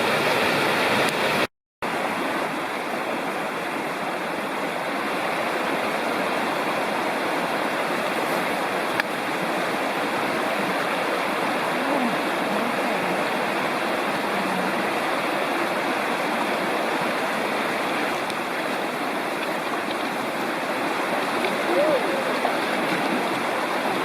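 Continuous rushing of Great Prong Creek in North Carolina's Lost Cove Wilderness Study Area, even and close, with a brief dropout near the start and no other sounds standing out.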